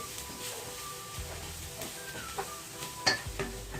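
Spices and onions for pav bhaji are stirred in a pan, sizzling quietly with soft scrapes of a spoon against the metal and a few sharper clinks near the end.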